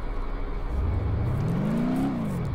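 A car engine in BeamNG.drive revs up in a rising, steady whine as the car accelerates, loud and close, with the pitch climbing smoothly then dropping off near the end.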